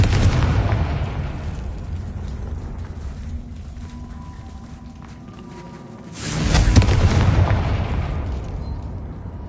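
Confringo fire spell in the Hogwarts Legacy video game, a rumbling blast followed by a second loud booming explosion that swells and fades, with no talk.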